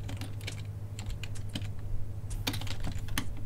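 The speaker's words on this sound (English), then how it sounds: "I'm going to start typing it in" Rapid, close clicking of keys on a computer keyboard, irregular taps and clusters over a low steady hum, with no talking.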